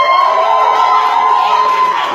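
Live comedy audience cheering in a vote for a fast food item, a loud, sustained crowd roar with high shouts lasting about two seconds, close and alone.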